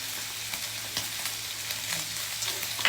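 Garlic and pork frying together in a pan, a steady bright sizzle with faint clicks of stirring throughout, close and continuous with no voices.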